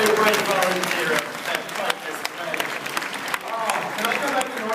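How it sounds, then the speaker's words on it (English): An audience applauds a brave volunteer at a Universal Studios special effects show, steady dense clapping with some crowd noise and voices mixed in throughout. "Let's have a huge round of applause for our very brave volunteer"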